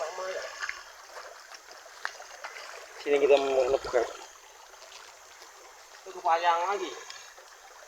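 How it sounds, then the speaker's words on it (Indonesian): The Sungai Binjai river flows in a forest setting, a soft steady trickling and rushing in the background while people talk over it in two bursts. "Teman-teman, di sini ada sungai ya"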